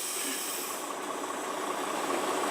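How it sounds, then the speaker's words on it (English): Car engine idling steadily during a parking brake check, a continuous even hum with broadband hiss and no talk. "Do not try to stall the engine."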